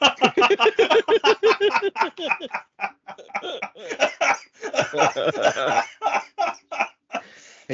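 A man coughs repeatedly in rapid, harsh bursts close to the microphone, forming a long fit with brief pauses and a few throat-clearing sounds at the end.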